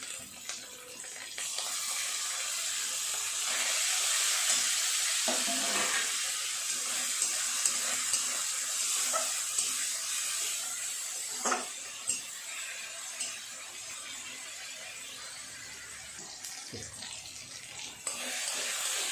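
Grated tomato sizzles in a pan with frying onion, ginger and garlic for a fish curry, making a steady bright hiss with a few soft stirring clinks and scrapes.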